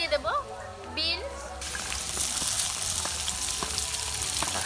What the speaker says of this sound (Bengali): আলুটা একটু হালকা লাল করে ভেজে নিয়েছি এবার আমি এর উপর দিয়ে দেব বিনস